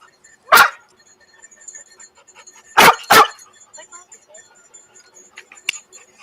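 Loud, close dog barks: a single woof, then a quick double bark a couple of seconds later, with faint ambient noise and a small click near the end.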